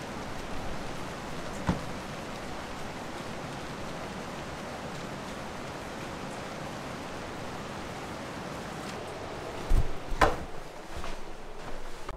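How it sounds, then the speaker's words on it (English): Steady outdoor rain, a soft continuous hiss of falling drops, faint and even throughout, with a few brief louder knocks and clatters near the end. "It's raining."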